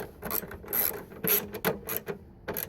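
Ratchet wrench snugging a 10mm bolt on a passenger-side motor mount of a 2001–2006 Dodge Caravan, giving a string of close, quiet clicking bursts in uneven short strokes.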